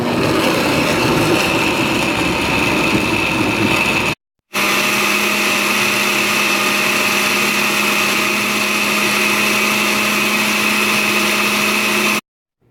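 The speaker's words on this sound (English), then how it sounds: "So I chopped up 1 onion, 4 tomatoes, and 2 of the habanero peppers and put it in the blender." A blender purées chopped onion, tomatoes and habanero peppers with about a cup of water, giving a loud, steady motor whir. The whir cuts out briefly near four seconds, runs on evenly, then stops just before the end.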